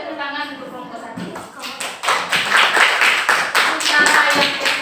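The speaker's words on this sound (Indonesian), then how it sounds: "Kita kasih tepuk tangan untuk kelompok 1." A classroom claps for a discussion group, sparse claps at first building into a steady rhythmic patter of many hands, with voices talking over it.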